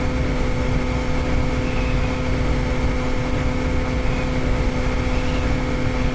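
Ultralight aircraft engine in a flight video game, a constant, even buzzing drone with steady tonal hum and no breaks, loud and close throughout.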